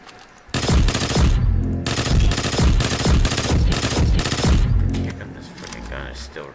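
Graviton Lance fire in the video game Destiny 2, sounding as loud, rapid bursts of repeated shots that run almost continuously before giving way to quieter background sound.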